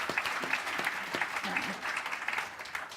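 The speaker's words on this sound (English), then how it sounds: "if we could please give Robbie a round of applause" Audience at a Jewish anti-Zionist congress applauding a speaker's introduction, steady clapping from a modest crowd with distinct individual claps, holding for several seconds and easing slightly toward the end.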